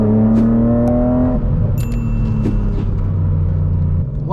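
A 2006 BMW Z4 M engine accelerates while driving, loud and close, its steady harmonic drone climbing in pitch through a gear shift and pulling on with continuous rumble.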